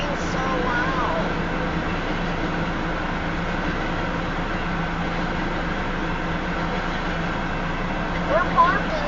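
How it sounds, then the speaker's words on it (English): A southbound Union Pacific tanker train rumbles past a rural crossing north of Elkhart, Iowa, a loud, continuous roar of rolling cars heard from a parked vehicle close by, with people talking over it. "Yeah, the train's so loud."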